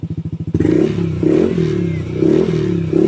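Yamaha Aerox V2 scooter fitted with a TRC exhaust pipe: a pulsing idle throb close by, then the engine revs hard and holds at a loud, rough, rising-and-falling drone.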